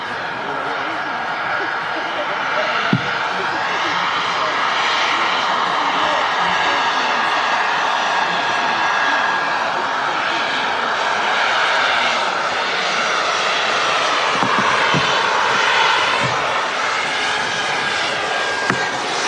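A Boeing 737 MAX taxiing at Manchester Airport gives off a steady, loud jet engine roar with a whining tone that holds for the whole stretch, while faint voices and light chuckling sit underneath.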